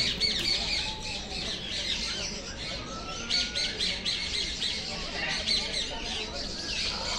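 Rose-ringed parakeets squawk repeatedly in harsh, shrill calls nearby, over a continuous background of chatter.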